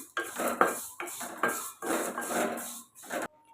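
A spatula scrapes and clinks in a pan while flattened rice (aval) is dry roasted, in a series of rhythmic stirring strokes heard up close with no talking.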